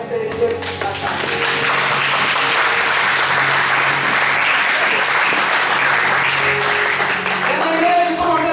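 A church congregation applauds steadily and loudly throughout, a dense wash of hand clapping with some voices and murmurs mixed in.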